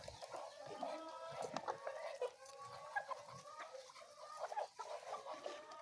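Chickens and chicks cluck and chirp continuously inside a poultry chicken house, a dense overlapping flock chorus at steady moderate loudness with no talking.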